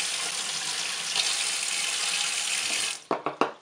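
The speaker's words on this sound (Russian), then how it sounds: "Помещаю слона под холодную воду" Cold tap water runs steadily over a small homemade plastic figurine of an elephant, a continuous hiss close by, ending with a few short taps and knocks as the flow stops.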